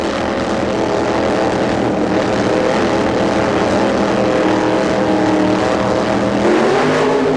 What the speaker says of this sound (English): bring the engines up, sidestep the clutch, and the hint of a yellow light on the tree